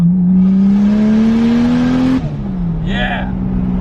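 A Toyota Chaser drift car's engine revs climbing steadily under acceleration, then the note drops sharply as the throttle lifts, followed by a brief high squeal or whine and a lower settling drone, loud and close as if from inside the car.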